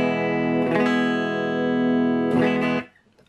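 An Epiphone Les Paul rings through a Vox Pathfinder 10 amp on the clean channel with effects off, two strummed chords sustaining loud and undistorted before cutting off into near silence.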